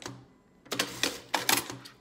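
A domestic sewing machine top stitching a pillow runs in two short bursts of rapid mechanical stitching, close and fairly loud, separated by brief pauses, with no talking.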